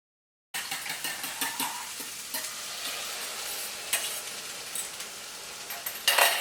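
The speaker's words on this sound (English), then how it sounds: "So now I'm going to just scramble up our eggs and add them to the pan." Scrambled eggs frying in a pan in a breakfast quinoa bowl recipe, a loud continuous sizzle with repeated stirring scrapes and light utensil taps against the pan, no talking.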